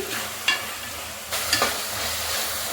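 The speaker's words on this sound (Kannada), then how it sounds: "ಅದಕ್ಕೆ ವೆಜಿಟೇಬಲ್ ಹಚ್ಚಿಟ್ಕೊಂಡಿದ್ನಲ್ಲ, ಕ್ಯಾರೆಟ್, ಬೀನ್ಸು, ಅದನ್ನು ಹಾಕ್ತಾಯಿದ್ದೀನಿ. ಇದನ್ನು ಸ್ವಲ್ಪ 1 ನಿಮಿಷ ಬಾಡಿಸ್ಕೊಳ್ಳೋಣ" Chopped carrots and beans sautéing in a hot pan for menthya bath, a steady close sizzle broken by a couple of brief stirring scrapes, with no voices.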